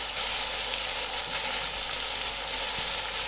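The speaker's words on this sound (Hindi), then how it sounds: "अब मैं सब्ज़ी ऐड करने के बाद इसे अच्छे तरीके से मिक्स कर रही हूँ" Vegetables with cauliflower and chicken sizzling and being stirred in a hot pan, a loud continuous frying hiss with a faint scrape of the spoon.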